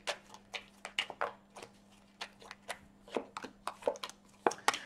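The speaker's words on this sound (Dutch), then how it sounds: "Ik zal de kaarten schudden om te kijken wat deze week voor jou gaat brengen." Tarot cards shuffled by hand up close: a run of quick, irregular riffling flicks and soft taps with short pauses between, and no voices.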